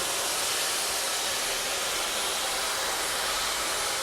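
A hair dryer fitted with a diffuser, set to high heat and low airflow, blows a steady, loud, broadband whooshing hiss at close range while drying curly hair, with no voices.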